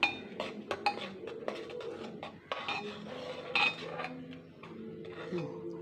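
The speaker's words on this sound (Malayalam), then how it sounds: "ഒന്ന് ഇളക്കി കൊടുക്കാം" A pot of drumstick leaf and lentil curry being stirred, heard as a series of close metallic clinks and scrapes of a spoon against the vessel, irregular and moderately loud with quiet gaps between strokes.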